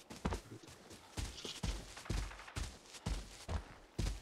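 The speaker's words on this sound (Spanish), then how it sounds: "No te preocupes por los disparos" Repeated sharp gunshots from a Mosin rifle in the video game Arena Breakout crack out at irregular intervals, some in quick pairs, with a lower thud beneath each blast; no talking.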